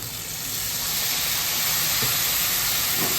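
Water goes into a hot pan of spices with coriander powder, throwing up a loud, sustained steamy hiss that builds at once and holds steady, with faint knocks beneath.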